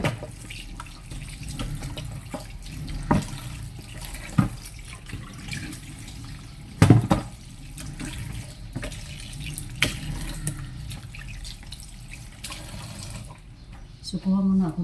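Water runs steadily from a sink tap as containers are rinsed before they go in the trash, with splashing and clinking throughout and a brief gap near the end.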